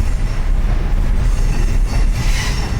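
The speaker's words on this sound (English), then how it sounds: "you take it around a straight rail and make it go in a curve, you end up with the kind of noises that you're hearing now" Metal train wheels squeal loudly and continuously as railroad cars roll through a curve in the track, a harsh high-pitched screech over a steady low rumble of the passing train.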